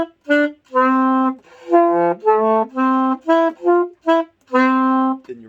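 An alto saxophone plays the melody of a Christmas pop song, loud and close, as a series of clean sustained notes and short phrases separated by brief breaths, with no other sound.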